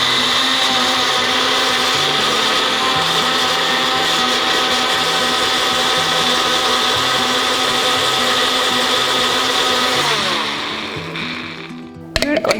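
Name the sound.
blender blending tree tomatoes for hummus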